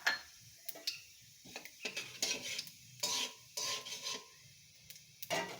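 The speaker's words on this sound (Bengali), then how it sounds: "ওই তেলের মধ্যে আমি দিয়ে দেবো কালো জিরে" Nigella seeds crackle in hot oil left in a pan after fish frying, faint sizzle broken by repeated sharp clicks and scrapes of a spatula stirring against the metal.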